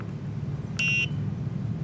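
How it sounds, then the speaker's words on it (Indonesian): Embedded system game's buzzer sounding a single short electronic beep of about a quarter second on a correct button press, clear over a low background hum. "setiap kita pencet yang benar, akan ada bunyi buzzer juga"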